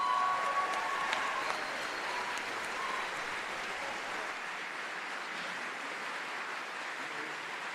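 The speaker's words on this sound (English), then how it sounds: "How about one more round of applause for all of our musicians?" Audience applause for high school band musicians at an all-county concert, a dense steady wash of clapping from a large crowd that holds evenly throughout.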